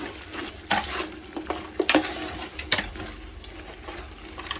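A spoon scrapes and knocks around a pot of camel biryani in a few irregular strokes over a soft bubbling simmer of boiling water, close by.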